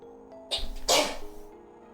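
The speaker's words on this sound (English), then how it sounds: "Ah, I need to sneeze again!" A single close, loud human sneeze, with a sharp intake followed by a forceful burst, standing alone against near silence.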